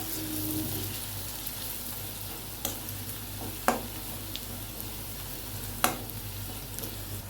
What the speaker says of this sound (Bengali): রসুনটা ভেজে নিচ্ছি ভালো করে।